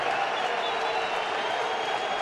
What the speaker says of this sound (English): A derisive cheer from the crowd